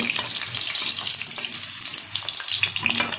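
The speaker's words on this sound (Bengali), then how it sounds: "প্রথমেই আমি ভেজে নিচ্ছি আলুটা কিন্তু খুব ভালোভাবে লাল লাল করে ভেজে নিতে হবে" Potato fries in oil in a bright, dense sizzle, a loud, close hiss with sputtering crackles throughout, while cooking vegetables for a Bengali chhyachra dish.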